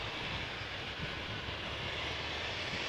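Embraer 190 jet airliner at Amsterdam Schiphol Airport, its engines producing a continuous dense rumble and hiss that stays even and fairly loud from start to finish, with no voices.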